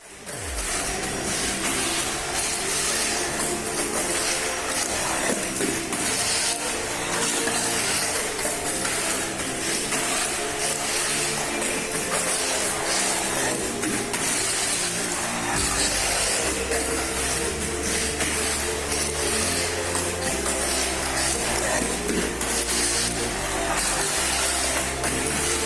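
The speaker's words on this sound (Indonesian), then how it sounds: "menggunakan torque tune double shaft motor dan kita akan coba langsung turunkan di sini" A mini 4WD car with a Torque Tune double shaft motor runs on its track, making a loud, continuous buzzing whir with shifting low tones throughout, and no talk.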